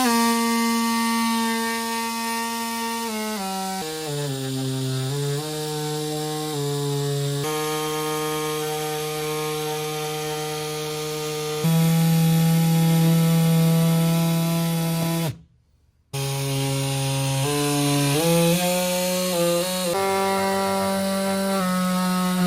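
Power saw cutting the plastic front bumper of a Sprinter van: a loud, sustained whining motor whose pitch sags and climbs as the blade loads and frees up, running close for about fifteen seconds, stopping briefly, then starting again.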